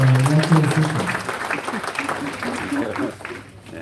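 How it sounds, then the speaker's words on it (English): A crowd claps for Mr. Lo Xie at a political campaign event. The broad, continuous applause holds for a few seconds under a voice and some tonal sound at the start, then thins out near the end. "So a big clap to Mr. Lo Xie and many other elected officials."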